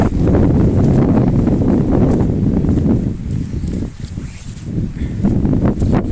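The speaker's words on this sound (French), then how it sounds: "Il y a du vent." Strong outdoor wind buffeting the microphone, a loud continuous low rumble with gusts that ease briefly midway and then return, with no voices.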